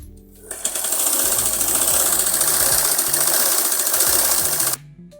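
An electric sewing machine stitches along a folded fabric edge in one loud, continuous run of rapid mechanical chatter. It starts and stops abruptly, with brief quiet before and after.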